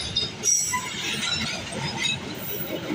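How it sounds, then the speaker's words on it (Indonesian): A long passenger train rolls past at close range near Cipinang in Jakarta, a loud continuous rumble of wheels on rail with metallic squeals over it. "keretanya panjang sekali."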